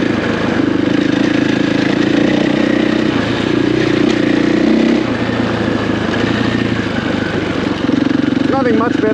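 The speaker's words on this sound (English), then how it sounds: "Nothing much better than a torquey 500cc engine on a Monday morning" A torquey 500cc motorcycle engine idles loud and close on a muddy morning, a steady low throb with slight wavering throughout.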